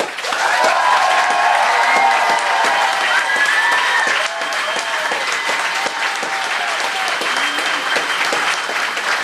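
An audience at an evening stage competition applauds to vote for performer Julius Fischer. The clapping is loud and steady, with a crowd roar mixed in, and it holds for over nine seconds with a slight dip partway through.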